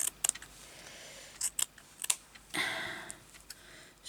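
Scissors cutting fabric for a sampler quilt square, heard as several quiet, separate snips and crisp rustles at close range, ending in a longer swishing cut, with no talk.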